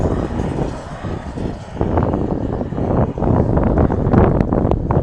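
A car accelerates hard through its gears in a drag race between a Suzuki Jimny and a Peugeot 205 GTI. The engine roar swells and surges in steps, mixed with heavy wind buffeting on the microphone.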